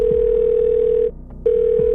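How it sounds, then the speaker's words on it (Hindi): A telephone call's ringing tone plays as a loud, steady electronic hum, cut by a brief silent gap before resuming. "फिर टिया को कॉल किया।"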